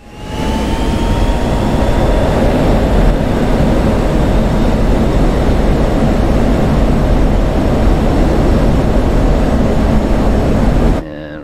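An aircraft engine in a flight simulator game roars at full throttle, a loud steady broadband drone with a rising whine that holds for about ten seconds before cutting off abruptly.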